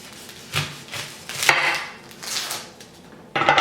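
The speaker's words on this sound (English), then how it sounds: "I'm just going to cut the top here." A knife cuts the top off a large onion on a cutting board, several crisp slicing strokes and board knocks, close and clear, with no talking.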